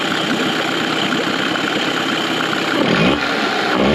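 Idling two-stroke outboard motor on a boat, a constant close rumble that wavers slightly and swells briefly near the end, with no talking.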